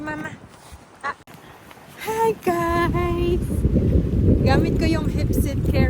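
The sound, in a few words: strong wind blowing outdoors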